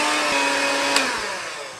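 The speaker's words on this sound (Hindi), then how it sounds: "अब हम इसके अंदर इलेक्ट्रिक मिक्सर से बिल्कुल लो रखेंगे स्पीड को और इसको 1 मिनट के लिए बस विस्क करेंगे" Electric hand mixer whisking chocolate coffee cake batter at low speed, a loud, steady motor whine with a continuous whirring hum, close up and uninterrupted, with no talking.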